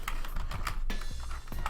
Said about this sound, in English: we're just gonna type out the word photography